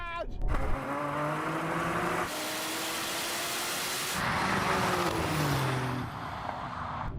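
A Porsche Taycan Turbo GT and a 911 Turbo S race side by side, giving a loud, sustained roar of engine and motor whine with rising and falling pitch sweeps, broad wind and road noise, and a swell near the end.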